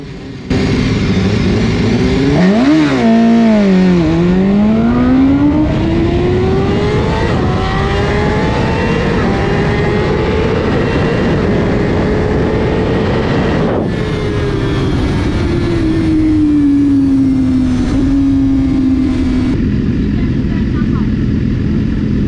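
A drag race car making a 10-second pass, the engine screaming loud and sustained as it climbs through gear changes with sharp pitch drops, heard from near the track.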